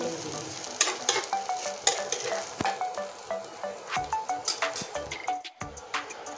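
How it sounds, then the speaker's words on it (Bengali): An egg fries in hot oil in a pan and is flipped over: a close, steady crackling sizzle with quick scraping and tapping strokes from the utensil, and no talk. "এবার দেখুন, ডিমের পিছনের সাইডটা হয়ে গেছে। এবার উল্টিয়ে দিচ্ছি।"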